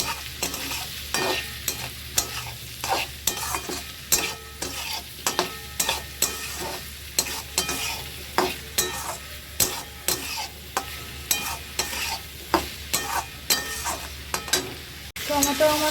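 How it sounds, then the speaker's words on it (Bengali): Potato, onion and tomato frying in a pan, with loud regular scraping strokes of a spoon stirring over a continuous sizzle, close and alone. "আলু পেঁয়াজ টমেটো আমার ভালো করে ভাজা হয়ে গেছে।"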